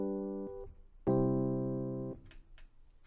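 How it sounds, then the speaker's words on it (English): Two sustained chords, the dominant resolving to the tonic, played cleanly on a keyboard-like instrument: a short chord with a brief upper change, then a louder held final chord that decays and fades, quiet and alone. "An authentic cadence is what we call the progression from the dominant chord to the tonic chord, or 5-1."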